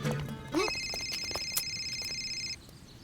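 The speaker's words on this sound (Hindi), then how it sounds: "सर का फोन।" A phone rings briefly in an action film scene, a faint electronic ringtone warbling at a steady pulse for about two seconds before cutting off, with quiet background noise around it.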